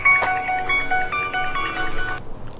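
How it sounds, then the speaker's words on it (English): A phone ringtone plays the John Carpenter Halloween theme as a run of repeated, evenly spaced electronic notes lasting a couple of seconds, fairly loud and close with no talk over it. "You really think I wouldn't have John Carpenter's Halloween as my ringtone?"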